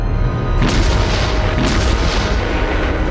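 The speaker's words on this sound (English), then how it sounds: "the Germans wheeled out the K5 to shell the embattled Allied beachhead." A German K5 railway gun fires, shelling the Allied beachhead at Anzio in 1944: a loud, heavy boom swells in after a brief lull and rolls on as a broad, sustained roar to the end, with no voices.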